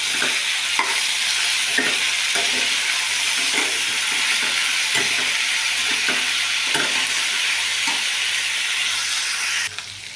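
Tomatoes frying for an ivy gourd (dondakaya) chutney, stirred in a pan, give a steady loud sizzle throughout with repeated scraping stir strokes at regular intervals and no talking.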